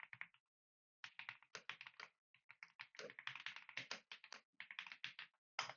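Rapid bursts of key presses on a computer keyboard as code is typed, close and crisp, coming in uneven runs separated by short pauses.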